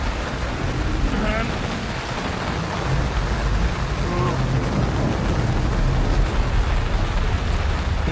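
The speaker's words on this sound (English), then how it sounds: "The thunder is just constant at the moment." Steady heavy rain drums on a surface during a summer thunderstorm in the Slovenian and Austrian mountains, with low rumbling thunder rolling almost continuously underneath and a voice talking briefly over the wash.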